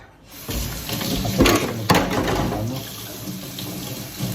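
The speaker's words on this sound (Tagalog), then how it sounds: "Hugasan ang pinaglutuan, pero hindi ko hugasan yung oven guys dahil mainit pa" Tap water gushes into a sink while cooking pans are rinsed beneath it, a close, continuous splashing with a few brief clatters of metal.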